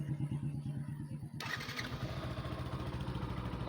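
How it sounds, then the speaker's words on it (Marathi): A motorcycle cold start: a low rhythmic cranking chug, then the engine catches with a sudden burst and settles into a steady, close, clattering idle. "आता आपण कोल्ड स्टार्ट देऊ गाडीला"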